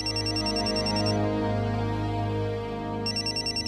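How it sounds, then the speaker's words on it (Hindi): A phone rings in repeated electronic bursts, pausing briefly in the middle, clear and fairly close with no talking. "अरे फोन उठाना।"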